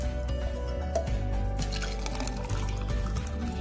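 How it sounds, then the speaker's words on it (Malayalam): Oreo badam milkshake pours from a blender jar into a glass, a steady close liquid stream with a gurgling fill and a few drips. "നമുക്ക് ഗ്ലാസ്സിലേക്ക് ഒഴിച്ചെടുക്കാം"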